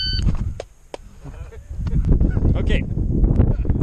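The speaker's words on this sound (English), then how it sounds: "I'm testing the timer." An electronic shot-timer beep at an IDPA pistol match, a short bright tone at the very start, followed by range chatter and crowd noise.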